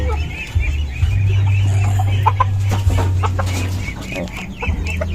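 Chicken clucks from a rooster left alone in a backyard coop, repeated short calls close by over a steady low hum, with faint bird and farm sounds behind.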